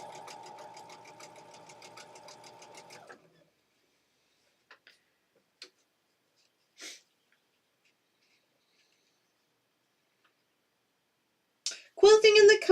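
Sewing machine quilting cotton fabric pieces in a home setting, running steadily and close for about three seconds before stopping, followed by quiet with a few faint clicks and a brief burst of talk at the end.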